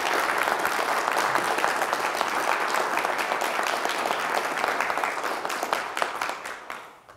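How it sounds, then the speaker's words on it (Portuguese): Sustained audience applause at a seminar talk, dense and steady clapping from a sizable crowd that holds for several seconds before tapering off at the end. "Uma salva de palmas aí."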